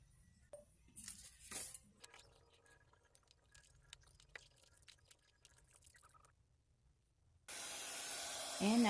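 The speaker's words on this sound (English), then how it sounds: "now I'm using a heat tool to seal, heat set the inks" A heat tool blowing hot air to heat-set inks on cut-out paper designs for resin, a steady loud hiss that starts abruptly after a stretch of quiet crafting clicks and rustles.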